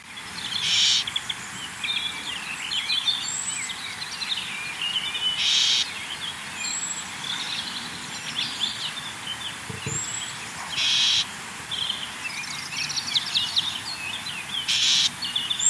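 Common whitethroat giving a scolding call from hedge or scrub, harsh raspy bursts repeating every few seconds over faint background birdsong and insect hum.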